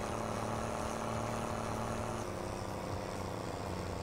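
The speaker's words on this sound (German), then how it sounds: "Wenn ich mit dem Traktor drüber fahre" A tractor in the Farming Simulator 22 video game drives over a field, producing a steady, continuous engine drone with a low rumbling hum and no breaks, fairly loud and constant throughout.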